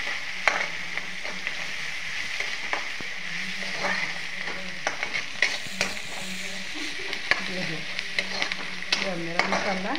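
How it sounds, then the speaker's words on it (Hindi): Cumin seeds and chopped onion fry in hot oil in a kadai with a loud, continuous close-up sizzle, broken by crackles and scraping stirs, with no one speaking. "अब मैंने इसमें जीरा डाल दिया है। अब मैं थोड़े से प्याज इसमें डाल देती हूँ"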